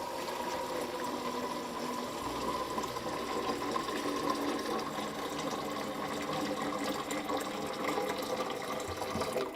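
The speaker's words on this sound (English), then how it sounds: "I'm gonna do one more rinse" Steady running water rinsing out a container in a kitchen during slushy experiments, a continuous moderate rush and splash with no speech, lasting throughout.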